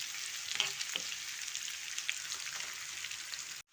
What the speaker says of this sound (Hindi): तकरीबन एक बड़ा प्याज हमने डाला है तड़के के लिए।